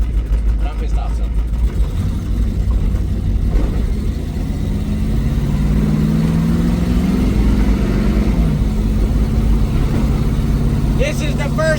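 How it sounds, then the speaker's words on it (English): LS-swapped Plymouth Satellite on its first test drive, engine droning loud and close as it pulls through every gear, pitch rising then dropping at each shift under steady road rumble. "This is the first test drive, by the way. We're shifting into every gear."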